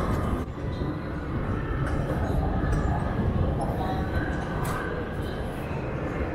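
Steady rumbling of a train in a large underground subway station in Shenzhen, China, continuous and moderately loud, with faint murmurs beneath.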